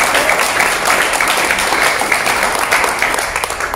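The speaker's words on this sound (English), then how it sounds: "Let's give a round of applause to Honorary President Melody Chen, President Edward, and the great WAMC team." Steady, loud audience applause at the opening ceremony of the 2020 Brisbane International Arts Festival, a dense wash of many hands clapping that carries evenly through the whole stretch with no voices over it.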